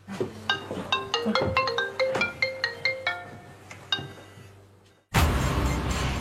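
A melodic phone ringtone chimes in quick repeated bright tones for about five seconds, moderately loud, before cutting abruptly to a burst of broadband noise.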